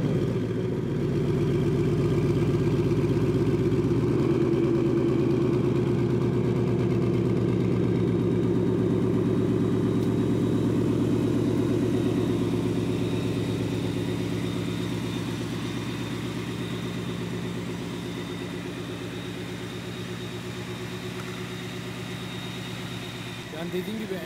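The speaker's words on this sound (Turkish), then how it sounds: "Dediğim gibi en sevdiğim yanlarından bir tanesi bu arabanın sesi arkadaşlar." A Ford Mustang with a classic American muscle V8 idles with a steady, deep rumble close by, holding constant before easing slightly quieter toward the end.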